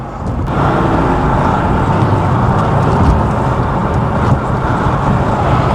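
A car engine drones loud and steady while held at high revs in a low gear, climbing a hill in slowing traffic, with no talk over it.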